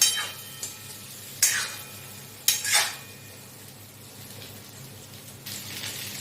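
Fried potatoes and pointed gourd sautéed with spices in a pan, with a few sharp, separate scrapes and clinks of the spatula over a faint sizzle, spaced out and fairly close.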